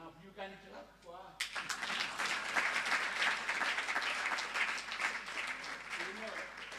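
Conference audience claps in a dense burst of applause that continues steadily after a short stretch of speech at the start.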